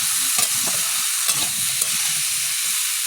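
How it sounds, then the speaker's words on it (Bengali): Pumpkin, greens and potatoes sizzle steadily in a hot pan while a spoon scrapes through them in irregular strokes, close and loud, with no voices. "কুমড়ো ডুমো শাক আলু একসাথে লবণ দেবো হলুদ নাড়াচাড়া করে একটু"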